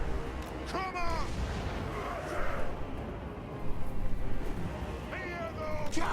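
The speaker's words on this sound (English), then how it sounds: "Here the cannon!" Cannon fire in a Total War video game battle, two sharp booming shots a few seconds apart over a constant din of battle noise.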